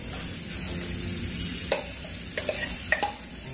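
Carrots being stirred into a raw turmeric curry in a pan for a Rajasthani haldi sabji: a steady low hiss of cooking with a few sharp spoon scrapes and clicks near the end.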